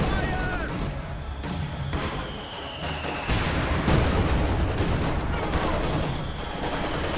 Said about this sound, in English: More Zis high explosive barrages going off